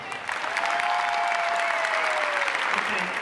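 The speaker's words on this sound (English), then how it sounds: "Okay, let's give a round of applause to this." An audience claps for a costume contest winner at a Star Trek convention, producing steady, fairly loud applause. A long whistle-like tone runs through the middle of it.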